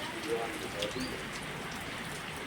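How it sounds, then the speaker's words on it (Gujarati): Gentle rain falling steadily outdoors on a farm with cows standing nearby, a soft even hiss of drops throughout, with a few faint bird chirps and someone speaking over it. "આ જો વરસાદ કેવો શાંતિથી પડે છે."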